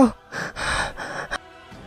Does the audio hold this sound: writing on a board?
no